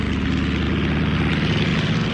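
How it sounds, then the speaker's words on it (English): A cartoon biplane's propeller spinning up as it takes off, a loud, steady droning engine and propeller whir that fills the whole short stretch with no talking. "The propeller began to spin. The biplane takes off."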